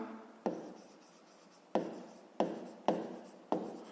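A pen or pencil writes out a math solution on paper, giving soft, steady scratching strokes broken by five sharp taps where new marks begin, close and quiet with no voice.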